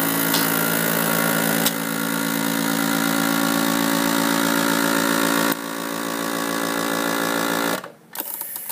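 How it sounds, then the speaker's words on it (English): A FoodSaver vacuum sealer hums steadily with a dense mechanical drone for about eight seconds. It shifts slightly partway through, then cuts off abruptly near the end. No one speaks over it. "did you hear the food saver make that noise?"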